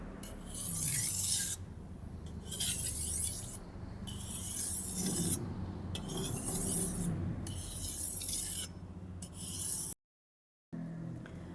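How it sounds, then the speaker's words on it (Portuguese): A knife edge is polished on a 1000-grit sharpening stone in a forging workshop: steady, rhythmic rasping strokes about every one and a half seconds, close and fairly loud, broken by a brief silence near the end. "E nós vamos para uma pedra 1000 para polir o fio"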